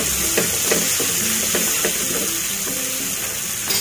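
A spoon stirs Maggi masala into a pan of sizzling vermicelli khichdi, giving loud scraping strokes in a steady rhythm over continuous frying crackle.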